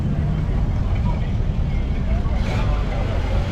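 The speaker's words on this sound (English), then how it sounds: "Model A Club's pulling out." Ford Model A cars pulling out at an outdoor car show, a dense rumble of old engines and traffic noise mixed with crowd murmur and an announcer's voice over it.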